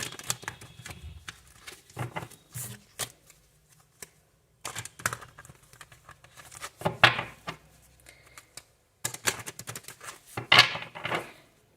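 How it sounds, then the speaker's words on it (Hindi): Tarot cards being shuffled by hand in several bursts of quick riffling patter, separated by short pauses, close and fairly soft with no talking. "तो ये रहेंगे हमारे कार्ड्स, देखने वाली हूँ, शफल कर लेती हूँ।"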